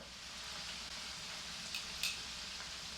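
Meatballs frying in a covered pan, a steady close hiss and sizzle with a few brief crackles and pops throughout.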